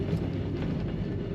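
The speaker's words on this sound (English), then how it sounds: "Horn works." A steady, sustained car horn from a 1964 Oldsmobile 98 Convertible blares continuously at close range, flat and unbroken from start to finish with no other sounds.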